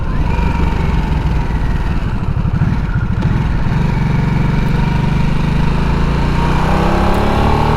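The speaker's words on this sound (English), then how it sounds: "If you rev this bike out, it really moves." Kawasaki Z900 RS motorcycle engine revving, with a loud, continuous throaty drone and the pitch climbing steadily toward the end.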